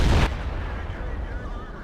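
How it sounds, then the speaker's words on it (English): A single loud, booming cannon shot from an E100 heavy tank in a tank combat video game, a sharp blast that trails off into a rumbling decay. "E100 is shooting the minigun port, and of course it's not going to penetrate it."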